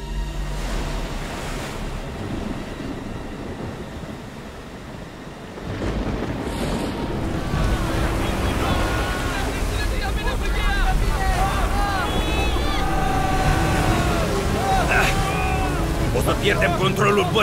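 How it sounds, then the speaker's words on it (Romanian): A boat tossed in rough ocean waves during a storm at sea, with wind and crashing surf building into a loud, continuous roar, joined midway by frantic shouting voices over the churning water. "Controlul bărcii în valurile astea!"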